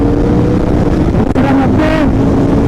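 A Royal Enfield Continental GT 650 pulls hard in first gear, its engine note rising steadily under loud wind rush, recorded close while riding.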